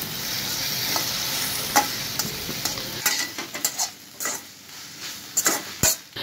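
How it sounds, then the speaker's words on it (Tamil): Onions and tomatoes sizzle and fry steadily in oil in a pan, with occasional scrapes and clinks of a utensil stirring. "ஒரு பெரிய வெங்காயத்தை போட்டு நல்லா வதக்கிக்கலாம்"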